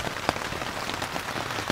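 Rain drums steadily on a Venturis Pollux 2 camping tent after an hour of downpour, a dense, close patter heard from inside with occasional louder drops and no talk.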